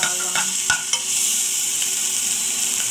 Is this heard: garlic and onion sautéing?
yes